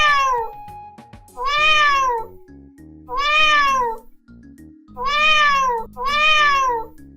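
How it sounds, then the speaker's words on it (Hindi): A cat meows and cries in a narrated story, with four loud, drawn-out wailing meows in a slow, evenly spaced sequence, up close and alone, following a brief faint high tone at the start. "बिल्ली ने एक पेड़ के पीछे छुपकर रोना शुरू कर दिया।"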